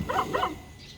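Stray dogs in the Philippines join in barking: two quick overlapping barks at mid distance, then a fainter yip trailing off, with no speech.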